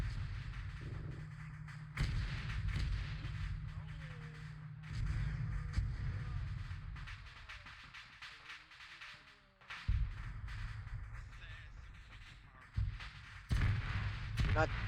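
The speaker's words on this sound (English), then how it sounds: "Artillery. Artillery's hitting us." Artillery fire in the military game Arma 3: heavy thumping impacts and booming blasts recur through the scene, with a loud low rumble early on and sharp hits near the end, while players talk over it.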